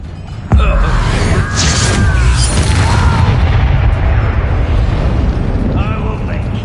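A Confringo blasting spell explodes in Hogwarts Legacy, one sudden loud boom followed by a long rumbling, crackling decay with debris, while voices talk over it.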